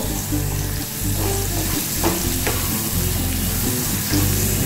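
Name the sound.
onion and puti fish frying in a pan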